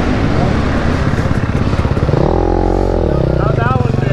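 A 2022 KTM 300 XC two-stroke dirt bike runs on a track, its engine buzzing and revving nearby while a voice talks over it.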